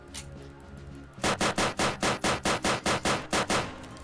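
Rapid gunfire in a Roblox video game, about a dozen evenly spaced, punchy shots in a quick automatic burst after a second of quieter game sound, loud and close.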